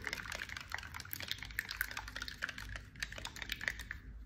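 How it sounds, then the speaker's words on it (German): Gold acrylic pouring paint being stirred into pouring fluid in a cup, a continuous soft wet clicking and scraping of the stirrer against the container, close and steady with no voices. "Ein Teil Gold, zwei Teile Fluid. Und dann schön mischen."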